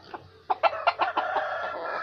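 A decoy rooster clucks close by in a quick run of sharp, staccato calls that rise into a short crowing burst, heard alone.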